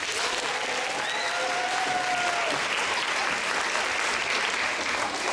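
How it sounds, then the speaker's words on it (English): Steady applause from an audience fills the whole stretch, dense clapping at an even level with a faint brief whistle early on. "wonderful round of applause"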